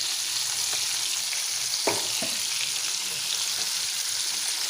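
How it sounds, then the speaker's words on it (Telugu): Fish frying in a pan at home for a ginger-tamarind fish fry, a steady sizzle that holds through the whole stretch, with a couple of brief clinks or stirs partway in and no talking. "ఇక్కడ నుంచి ఫిష్ ఫ్రై చేస్తున్నానండి"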